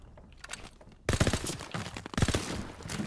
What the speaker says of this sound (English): As soon as you shoot a barrel of apples, they all disappear.